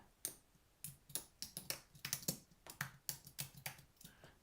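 Quick, uneven bursts of clicky keystrokes on a computer keyboard, close and fairly quiet, arriving in short runs with brief pauses between them.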